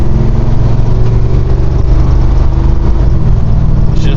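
A 1969 Dodge Charger R/T with a 440 Magnum V8 and EFI roars under hard acceleration, a loud, dense, sustained engine growl heard from close inside the car, without talk.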